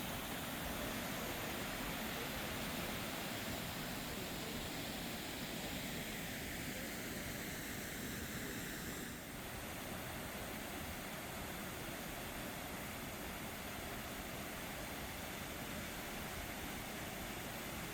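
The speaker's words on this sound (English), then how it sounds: "a pretty little waterfall tucked inside the park" Öxarárfoss, a small waterfall among rugged lava rock in Thingvellir park, Iceland, gives a steady broadband rush of falling water, constant and even for the whole stretch, with no voices.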